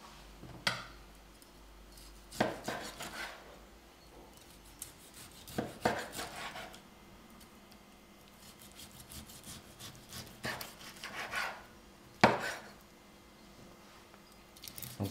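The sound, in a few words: slicing cooked duck breast (magret)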